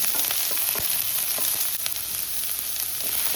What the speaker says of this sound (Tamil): வெங்காயத்தை போட்டு நல்லா வதக்கிக்கோங்க